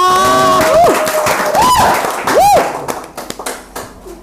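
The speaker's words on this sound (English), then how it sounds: "Clap for her." An audience at a children's show claps and cheers as a presenter arrives, with whooping voices and crowd noise at the start and scattered claps trailing off toward the end.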